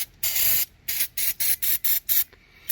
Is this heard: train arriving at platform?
no